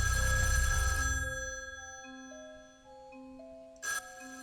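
An in-game telephone in Shivers 2 rings with a bright electronic bell tone that fades away, followed by a single short ring burst near the end.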